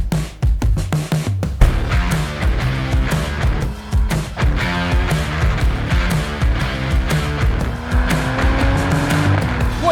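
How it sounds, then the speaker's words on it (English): A 2025 BMW M440i xDrive launches hard under launch control, its engine roaring loudly up through the gears with quick shift breaks, then settling into a sustained rising drone from inside the car. "'25 BMW M440i. xDrive with launch control."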